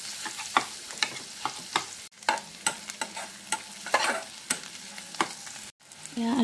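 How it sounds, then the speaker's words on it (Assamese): Potato pieces fry in a pan, a steady sizzle broken by repeated scraping stirs and clinks, loud and close with no talk. "এয়া আলুখিনি অলপমান সময় ভাজি লোৱাৰ পাছত"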